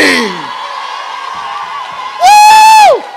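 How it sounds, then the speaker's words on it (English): Church congregation during a sermon cheering, whooping and making noise, with a loud, sustained high whoop rising near the end over the crowd's din. "Oh, clap those hands. Make some noise in here."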